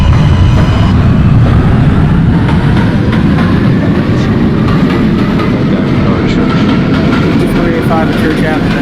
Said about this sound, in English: This is a Manhattan-bound 4 train.